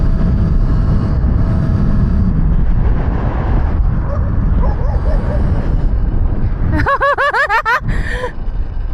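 A guard dog chasing night riders on Talaria electric dirt bikes gives a quick burst of several loud, close barks and yelps over steady rushing wind and road noise.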